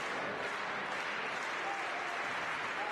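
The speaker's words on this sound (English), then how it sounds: "Crowd getting into it a little bit" Volleyball crowd at a Canadian nationals match applauding and cheering during a set point, a dense, steady wash of clapping and voices sustained throughout.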